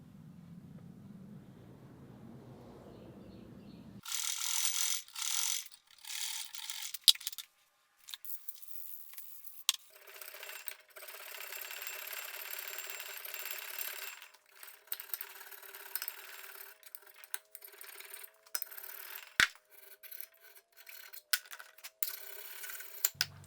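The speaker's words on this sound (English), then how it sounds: "I'm just going to leave that and scrape the thicker end." Hand scraping on the thicker end of a metal clapper for a Gingery shaper, a steady rough scratchy rasp in repeated strokes with occasional sharp metallic ticks, close and fairly loud, with no voices.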